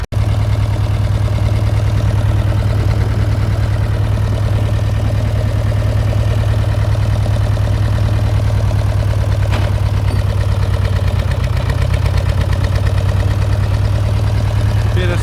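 A Fordson Major tractor engine labours steadily uphill under load, a deep, continuous, loud diesel drone with a rapid knocking pulse, close by and unbroken.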